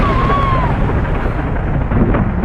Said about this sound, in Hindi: उसी पल बाहर तेज बिजली कड़की।